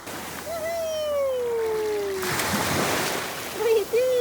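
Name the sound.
ocean waves at the beach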